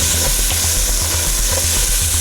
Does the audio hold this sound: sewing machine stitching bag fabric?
no